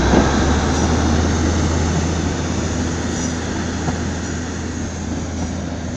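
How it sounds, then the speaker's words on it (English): A Northern service, unit 515643 in new livery, pulls out of Darlington station bound for Saltburn, a steady broad rumble of engine and wheels holding close and even throughout with no voices. "Parting now is Northern Service 515643 Saltburn"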